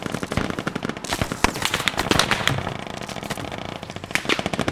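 Dense, rapid machine-gun bursts rattle almost nonstop during a firefight in the military shooter Squad, loud and close, with sharper single shots popping through the rolling fire.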